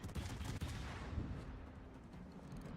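Naval gunfire from enemy ships in a video game, a series of low, muffled booms and rumbling reports at the start, fading into a quieter steady rumble.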